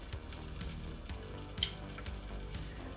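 Bone-in short ribs searing in a pan ahead of braising in a Dutch oven, giving a steady, close sizzle with faint crackles and a brief louder pop partway through, no talking.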